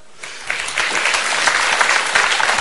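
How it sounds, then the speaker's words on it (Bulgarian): A live audience at a Bulgarian comedy stage performance breaks into applause, a loud, dense clapping that starts abruptly and holds steady throughout. "Не пляскайте, като не сте го видяли."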